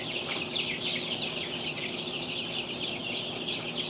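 Baby chicks peep in a dense, continuous chorus of high chirps, close and steady, with a faint low background hum and no talking.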